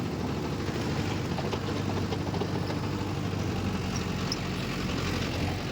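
A Mahindra Yuvo tractor works a rotavator in the field, its engine holding a loud, steady, unbroken drone close by for the whole stretch, with no voices over it.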